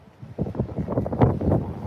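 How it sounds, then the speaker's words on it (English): Gusty wind buffets the microphone at an outdoor street protest in Hollywood, a low rumbling roar that swells and drops in uneven bursts for a couple of seconds. "See, it's windy right now"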